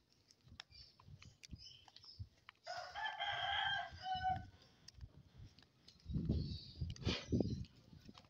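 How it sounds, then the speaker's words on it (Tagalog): A rooster crows once nearby, a moderately loud call lasting about two seconds, with faint scattered clucks and low background rustling before and after it. "May manok dito guys."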